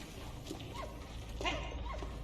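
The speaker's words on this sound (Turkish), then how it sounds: "Köpek." A dog in the video game Valiant Hearts: The Great War gives a few short yips and barks at moderate distance over a steady low in-game background hum.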